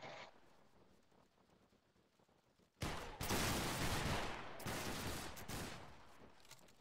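Line of muskets firing a volley in Battle Grounds 3, a sudden loud ragged fusillade of overlapping shots after a quiet stretch, then a sustained rumble of further firing.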